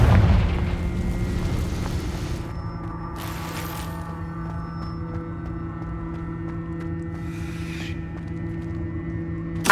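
A Confringo fire-blast spell explodes in the video game Hogwarts Legacy: a deep boom at the start that fades into a steady low hum, with faint whooshing flourishes afterward.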